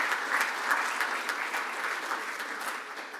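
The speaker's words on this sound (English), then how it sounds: "Yes, we can go ahead and clap." A club meeting audience applauds for a member's 71st birthday, a short stretch of steady, moderately quiet clapping from a room of people.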